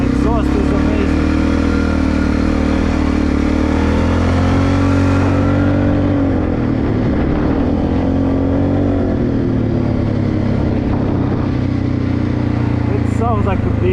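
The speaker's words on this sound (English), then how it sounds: "The exhaust is amazing." Segway Snarler AT5L ATV engine and exhaust while riding, a loud continuous rumbling drone with rising and falling revs, heard up close under wind.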